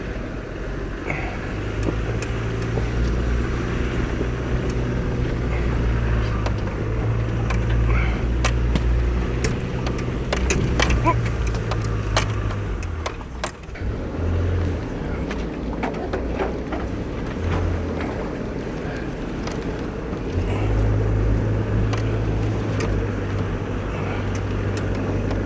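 Car driving the rough, overgrown Mount Sunday track, a steady rumbling engine and tyre noise with rattles and scrapes from brush, continuous and close throughout.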